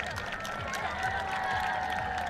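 At a women's soccer match between Angel City FC and Seattle, the stadium crowd gives a moderate round of applause, a steady wash of clapping with a commentator talking over it.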